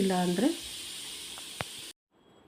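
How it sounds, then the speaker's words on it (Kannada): Vegetable fried rice frying in a pan on a low stove flame, a gentle hiss with a few small pops, briefly overlapped by a short tonal voice-like sound near the start, then cutting to near silence. "ಸ್ಟವ್ ಲೋ ಫ್ಲೇಮಲ್ಲಿ ಇಟ್ಕೊಂಡು ಫ್ರೈ ಮಾಡ್ಕೋಬೇಕು."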